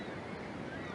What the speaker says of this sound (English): Sea.